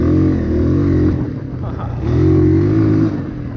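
Honda CRF230 dirt bike engine with a bogging problem revs loudly nearby, swelling twice in a rough, buzzing drone with a dip between, with no talking.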